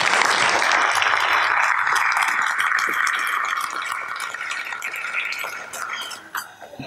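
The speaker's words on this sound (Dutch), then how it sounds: "Iets wat volgens mij een apart applaus verdient op dit moment" Applause at an ambassadors' gala night fills the room, dense and sustained at first, then tapering and growing patchier toward the end.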